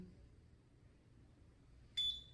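A short electronic beep from a facial electrode device used in a non-surgical face lift treatment, sounding once near the end of an otherwise quiet stretch.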